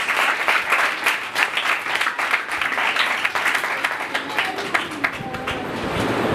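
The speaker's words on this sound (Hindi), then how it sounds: "ऐसे खुदा के लिए जोरदार तालियां" A church congregation claps loudly and steadily during a sermon, the applause continuing for several seconds before thinning out, with faint voices and music tones emerging near the end.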